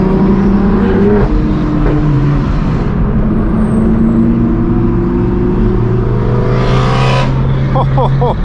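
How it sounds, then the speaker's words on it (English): A BMW E92 M3 roars along a mountain road amid other modified cars, a loud, continuous engine drone rising and falling with throttle, heard close with wind and road noise. "The E92 M3 sounds incredible."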